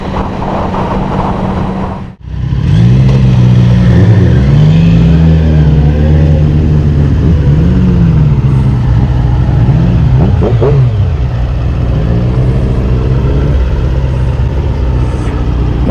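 Loud and near, a Suzuki GSX-F 600 motorcycle engine drones on, cutting out for an instant at a shift and then revving back up, its pitch rising and falling in waves before settling into a steady roar.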